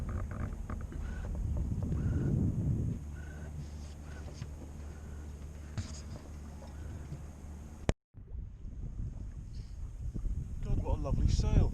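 Steady wind rushes and buffets across a sailing boat with its engine off, loud and close with microphone gusting, under almost continuous talk, broken by one abrupt cut partway through.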